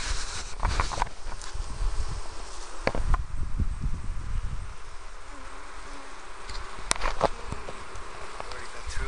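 Honeybees buzz steadily around an open hive during an inspection of a brood frame, in a hive that had queen trouble earlier in the year, a continuous close drone with occasional soft knocks and shuffling.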